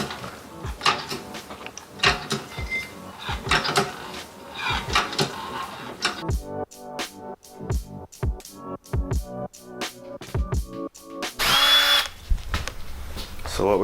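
A power drill runs in a series of short, loud bursts, starting and stopping repeatedly, with brief talk in between, while fitting a front lip to a jacked-up Mazda Miata.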